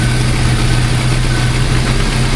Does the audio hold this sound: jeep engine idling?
yes